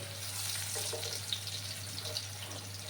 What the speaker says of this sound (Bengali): আর একটু লাল করে আমি আলুগুলোকে ভেজে নিচ্ছি